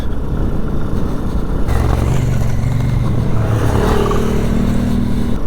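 2022 Benelli Tornado TNT 125 ridden on small wheels over a bumpy, dry clay soil track: steady wind and rumble, then a droning engine note rises and holds alongside rattling clatter.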